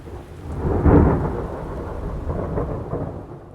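A thunderstorm effect rumbles loudly with a deep roll of thunder that swells near the start and fades into steady rain-like hiss, heard alone.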